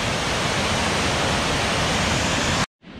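Virginia Falls in Glacier National Park rushes as a loud, steady, broadband roar of falling water. The sound is close and fills the clip alone before cutting off sharply near the end.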